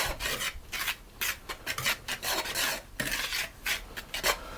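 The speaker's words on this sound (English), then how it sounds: "whisk it with a whisk just to combine it properly" A whisk scrapes and rasps through a cookie dough mixture in a mixing bowl for malted milk and chocolate chip cookies, with steady rhythmic strokes heard close and alone.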